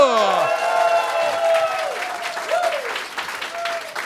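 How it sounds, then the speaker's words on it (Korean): A studio audience at a live concert-style radio broadcast bursts into loud, continuous applause mixed with cheering, while voices ring out on top and then settle as the clapping carries on. "박수!"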